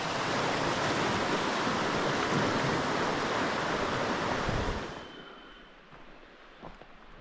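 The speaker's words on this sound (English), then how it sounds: "Coming up to the bridge across Barkley Creek, and it's actually running." Barkley Creek rushes beneath a hiking bridge in the Wild Sky Wilderness, a loud, steady broadband wash of running water that drops away abruptly near the end, leaving quieter outdoor ambience.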